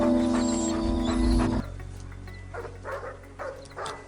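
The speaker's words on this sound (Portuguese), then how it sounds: "Agitado e latindo sem parar, o cão é libertado por Janet" A dog barking agitatedly in a scene from the 1996 werewolf film Bad Moon, a loud burst of growling barks over music, followed by quieter scattered yips and barks.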